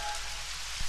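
Rain falls steadily in a Tamil film scene, a dense, even hiss of drops that fills the brief moment with no voices.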